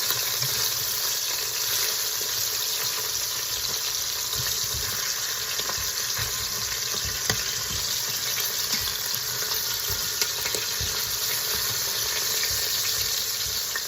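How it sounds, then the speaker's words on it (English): Korean short ribs sear in a pot with a steady, even sizzle, and faint scrapes and knocks sound beneath it. "Keep going until that side is seared."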